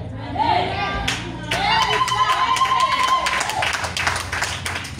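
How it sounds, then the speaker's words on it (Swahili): An audience claps during a church sermon, a burst of scattered hand claps beneath a preacher's loud, echoing voice, continuing for several seconds. "Unapiga makofi"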